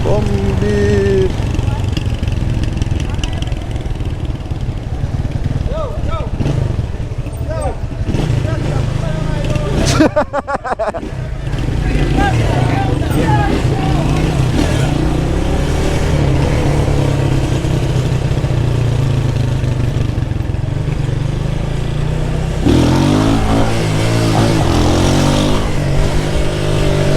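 A motorcycle engine revs and roars continuously during bike stunts in Jamaica, loud and close, with people talking and shouting throughout.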